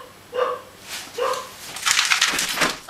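A dog barks nearby during indoor wall spraying with a Wagner W665 paint sprayer: two distinct barks followed by a burst of noisy scuffling and rustling.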